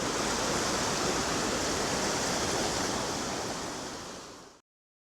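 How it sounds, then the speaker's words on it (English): A steady, loud rush of a river pouring over a weir roars continuously beside a canal walk near Manchester, then cuts off abruptly near the end. "you sure should be able to hear the river"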